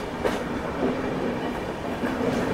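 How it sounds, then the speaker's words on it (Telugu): A passenger train on the Visakhapatnam to Araku line rolls steadily along, its continuous rumble and rhythmic rail clatter close by and loud, with no talk over it. "జస్ట్ ఇదే స్పీడ్లో ట్రైన్ వెళ్తుంది."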